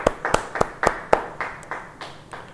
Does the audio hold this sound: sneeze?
no